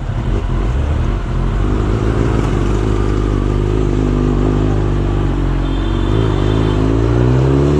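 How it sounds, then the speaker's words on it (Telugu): A Kawasaki ZX-10R superbike engine idles with a steady, fairly quiet stock exhaust note, a continuous low rumble with mechanical whir and no talking. "సౌండ్ రాదా ఈ సూపర్ బైక్కి? పాపం స్టాక్ ఎగ్జాస్ట్ ఉంది."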